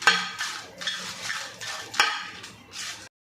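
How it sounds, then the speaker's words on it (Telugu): Dried red chillies stirred and fried lightly in oil in a pan, with a series of scraping, clattering stirring strokes over a soft sizzle, close and fairly loud, no talk. "దీంట్లో వేసేసి లైట్గా ఫ్రై చేయాలి."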